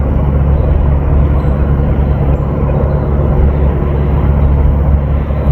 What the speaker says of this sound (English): Here's the plane.